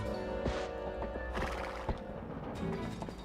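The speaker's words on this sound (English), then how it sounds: "I gotta tame the horsey. Poor Epona's traumatized." A horse whinnies in Twilight Princess HD, a loud, shrill neigh over galloping clip-clop hooves and game effects, with a second snort-like cry near the end.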